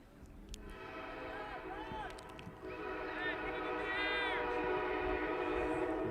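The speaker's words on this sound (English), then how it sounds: "The train making its presence known here." A train rolls past a high school soccer field, its horn blowing in several long drawn calls over steady rumbling rail noise, with a commentator's voice and crowd sounds mixed in.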